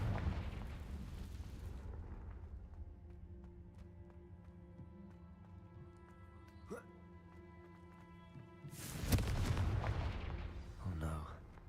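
Confringo fire spell blasts in Hogwarts Legacy, one loud booming burst near the end following a quieter stretch of game music and effects, with an earlier heavy rumble at the start.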